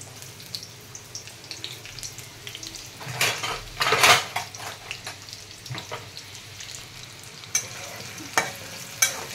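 Onions being tossed into hot oil and stirred in a pan, giving a steady sizzle with clattering spoon-on-pan scrapes and a few louder bursts of frying.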